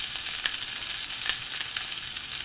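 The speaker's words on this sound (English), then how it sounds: "the fat is now rendering down. It's leaking out of the fat, out of the lamb chops" Lamb chops in a pan that started cold, fat rendering out in a steady close sizzle with scattered small pops and spits, continuous and moderately loud, no voices.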